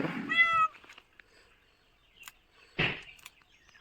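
A cat meows loudly up close, then a quiet pause and a second harsh cry follow, as a dog chases it outdoors in a Konkan village.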